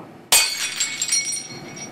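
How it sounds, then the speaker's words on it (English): Glass shatters in one sharp, loud crash, followed by a bright, ringing tinkle of falling shards that fades over the next second and a half, with no voices. "That glass breaking."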